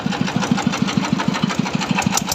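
A Yanmar engine on a test run with an 8-inch lower pulley and 5-inch upper pulley chugs close by in an even, rapid thumping rhythm, loud and steady throughout.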